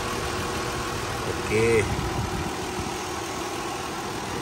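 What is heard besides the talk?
car engine idling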